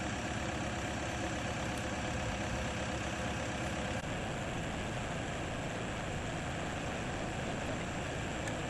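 A tractor engine idles steadily throughout, a low continuous rumble with a broad mechanical hum, holding a bucket attached to a well pipe during a lift attempt; no voices.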